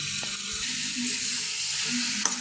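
Fish sizzling as it is sautéed and stirred in a pan for a Bengali dopiaza, giving a steady close hiss with a few soft scraping touches.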